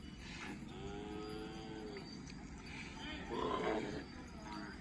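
Cattle at the Magadi cattle fair give a few drawn-out moos at moderate distance, heard over a continuous murmur of people talking nearby.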